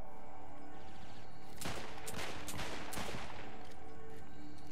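Several sharp, loud gunshots in the video game Saints Row 4, spaced out unevenly across a couple of seconds over a dense, busy game soundscape.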